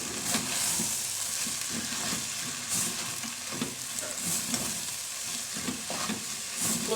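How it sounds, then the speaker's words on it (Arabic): Grated carrot is stirred through spiced basmati rice in a pot, with repeated scraping strokes and soft scoops over a gentle sizzle and no talking. "وهقلب كمان برضو الجزر مع الرز"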